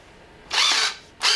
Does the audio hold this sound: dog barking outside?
no